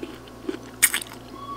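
Asparagus being chewed close to the mic during a mukbang, with a couple of soft bites and one crisp crunch in a short, quiet stretch.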